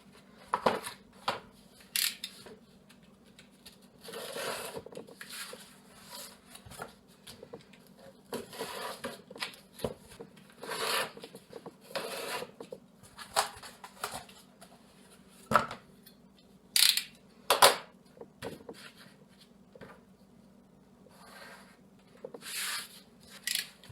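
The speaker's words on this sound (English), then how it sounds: "now we can just duplicate that on the other piece of cardboard and cut this all out" Scissors snipping through cardboard to cut out pieces for a sword sheath, in irregular bursts of close, crisp cuts and rustling with a couple of sharper snaps, no talking.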